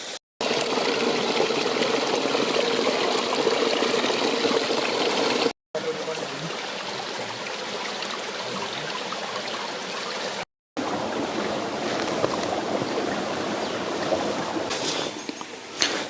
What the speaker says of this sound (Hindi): उसके सोर्स जहाँ से वो निकल रहा है पानी